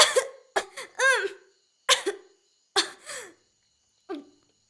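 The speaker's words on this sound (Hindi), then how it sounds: "खांसो मत" Several separate coughs from one person, sharp and close, spaced irregularly with short pauses between them, with no talking over them.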